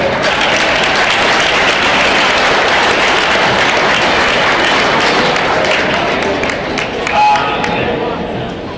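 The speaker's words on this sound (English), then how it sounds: "Let's give both of these teams a round of applause" Loud crowd applause and cheering at a high school boys varsity basketball game in a gym, a long dense roar of clapping with voices mixed in.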